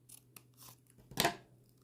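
Scissors snip through folded origami paper while making a black dragon craft, one sharp crisp cut near the middle after a few light rustles, close and alone.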